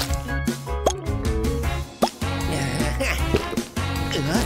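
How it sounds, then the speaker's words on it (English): Glue drips onto a stack of seashells in a craft, a series of wet plops and drips laid over bright, busy background music. "Now drip some glue over it."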